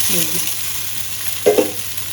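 Rice being mixed into scrambled egg bhujia in a pan, with a steady sizzle beneath and a couple of short scraping stirs near the end.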